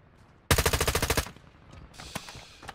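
Rapid automatic gunfire from a Warzone Mobile match, a loud burst of about a dozen evenly spaced shots lasting under a second, followed by quieter in-game clatter and a few scattered impacts.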